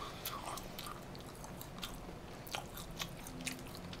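Close-up chewing and biting of pork trotters in a Korean mukbang, with soft wet crunches and mouth sounds repeating at an irregular pace over a quiet background hum, no talking.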